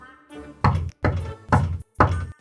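Four heavy knocks on a wooden door, loud and close, in a steady rhythm with brief pauses between each thud, heard alone with no talk.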